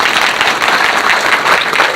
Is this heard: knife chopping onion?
no